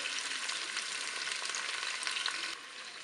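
Potatoes and mushrooms browning in a Cookeo multicooker on its browning setting, giving a steady, close, bright sizzle with no voices, easing slightly at the end.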